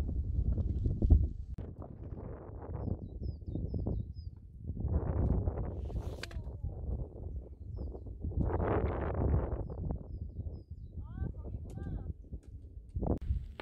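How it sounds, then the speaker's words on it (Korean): Strong gusts buffet the microphone on a Mudeungsan mountain trail near Seungcheonam, surging in several loud, rumbling waves with quieter gaps between them. Faint bird chirps come through late on. "바람이 장난 아니죠?"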